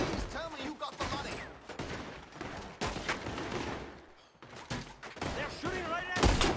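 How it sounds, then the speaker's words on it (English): Gunfire in the Western video game Red Dead Redemption 2, with sharp bursts and rapid volleys of shots cracking repeatedly throughout, mixed with excited voices talking over the shooting. "They're shooting right at us!"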